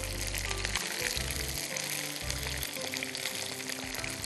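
Chicken pieces fry in hot oil for orange chicken, a dense, steady sizzle filling the background with a low hum beneath it.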